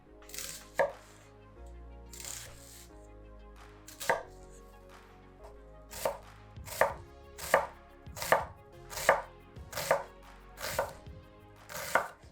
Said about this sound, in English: Next, we'll finely chop some white onion.